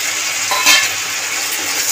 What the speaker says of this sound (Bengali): নাড়িয়ে চাড়িয়ে মিশিয়ে দেবো মশলার সাথে আলুটাকে।